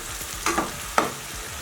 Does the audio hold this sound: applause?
no